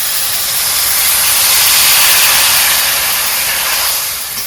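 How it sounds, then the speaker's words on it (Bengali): A pot of curry boiling over on a home stove gives off a loud, steady hissing and bubbling sizzle that fills the whole moment without pause, with no talking over it. "তরকারিটা উতলাই গেছে"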